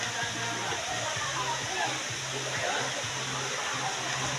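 A mountain waterfall at a resort in Jamindan, Capiz, pours down from above as a constant, dense roar of falling water. It sounds near and steady throughout, with a low rhythmic thrum underneath.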